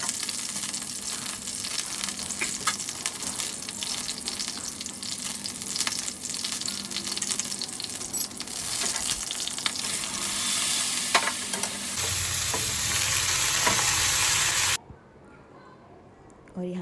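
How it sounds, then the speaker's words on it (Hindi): Kashi phal (pumpkin) sabzi frying and being stirred in a pan, made without onion or garlic: a loud, close sizzle with scraping stir strokes, growing hotter and brighter near the end before cutting off abruptly. "यहाँ पे मैं कासी फल की सब्ज़ी बना रही थी"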